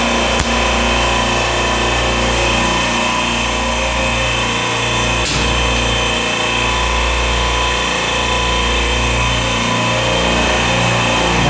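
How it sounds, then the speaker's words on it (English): Medium-temperature refrigeration rack compressor switched on and running, a loud, steady mechanical hum with a faint rhythmic pulsing, continuous and close throughout. "Throw in another compressor."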